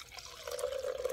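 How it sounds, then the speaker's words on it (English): Boiled coffee poured from a pot into a press at a solo canoe camp with a hot tent and wood stove, giving a steady, close liquid trickle that starts faintly and grows fuller over about a second. "So I'm gonna go ahead and pour everything in here"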